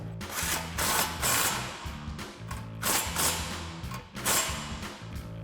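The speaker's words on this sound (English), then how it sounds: "Grab our impact and 19mm socket and tighten that down" Impact wrench with a 19mm socket runs down a castle nut on a Toyota Tacoma tie rod end, giving repeated loud bursts of rattling, hammering mechanical noise separated by short pauses.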